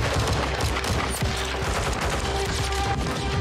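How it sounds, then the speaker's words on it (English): Gunfire in a firefight in the Modern Warfare video game, Las Almas, with dense, continuous bursts of automatic shots and sharp cracks layered over one another at steady loudness. "Alejandro got angry when Graves announced that his vaqueros had been detained, and a firefight broke out"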